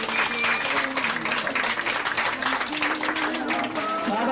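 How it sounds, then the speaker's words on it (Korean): Steady, dense applause from a crowd at a large family gathering, clapping continuously throughout with a faint murmur of voices underneath. "박수는 이렇게 치는 겁니다"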